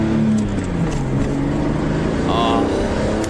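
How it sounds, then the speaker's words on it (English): BMW car from the early 2000s driving on the Autobahn, its engine giving a steady, loud mechanical hum with low tonal drone throughout, cabin noise constant, with a voice briefly talking over it. "that BMW sounds so mechanical"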